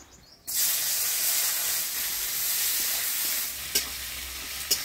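Chopped onions dropped into hot oil with whole garam masala, dried red chilli and bay leaf burst into a loud, sustained sizzle after a quiet start, with a couple of sharp utensil taps later.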